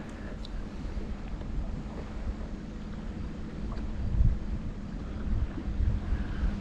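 Wind gusting over a lake while kayaking, a steady low rumbling buffet on the microphone with water sloshing beneath, swelling louder in a couple of gusts toward the end, with no talk.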